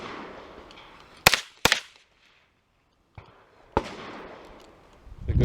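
Gunshots from practice shooting with cheap ammunition, with two sharp, loud reports close together, then a pause before another shot with a louder crack and a rising noise at the end.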